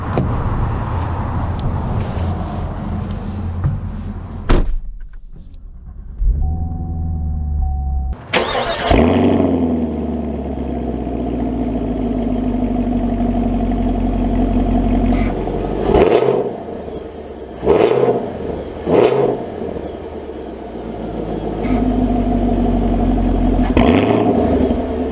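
A 2023 Chevy Camaro SS V8 starts with a sharp burst, idles with a deep steady rumble, then gives several short revs and throttle blips over a continuous low drone, heard close and without talk.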